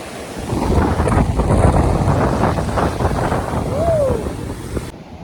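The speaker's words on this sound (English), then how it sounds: "the waves crashing" Ocean waves crash and wash onto the beach along the Maroubra to Malabar coast, a steady loud roar buffeted by wind noise on the microphone, with no voices.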